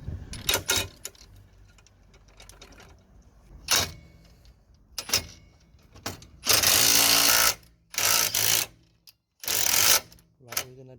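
Socket wrench with a 14mm socket driving the nut in and out on a Mitsubishi Outlander front anti-roll bar link: loose mechanical clicks and rattles, then several loud sustained bursts of high-pitched power-tool whirring, close up, with no talk.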